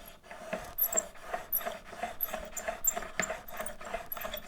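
A blade clamped in a honing guide is pushed back and forth on a 1000 grit Shapton sharpening stone, making quiet, close, gritty rasping strokes in a steady rhythm, about two per second, with no voices.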